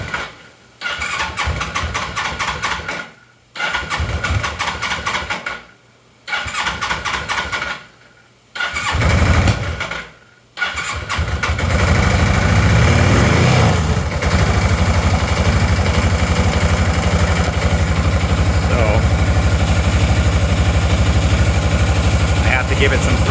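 A motorcycle engine is cranked and caught with throttle, sputtering through several short start attempts before settling into a loud, continuous, rough-running idle close by.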